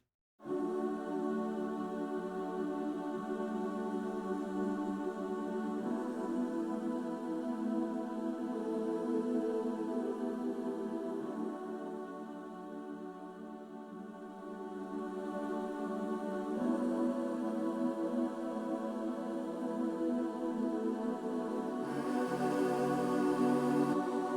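Sustained sampled choir of mixed soul voices holds layered chords, shifting every few seconds in a smooth, wide stereo pad without any percussion.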